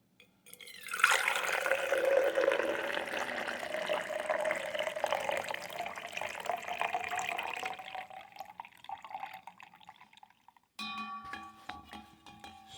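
Brewed cacao drink pours steadily into a cup for several seconds, the stream thinning out, followed by a few faint clinks.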